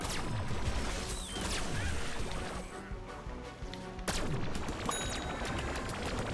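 Gunfire in the shooter game Plants vs Zombies Garden Warfare 2, a dense steady clatter of rapid shots and impacts with sharp bursts at the start and again near the end, loud throughout.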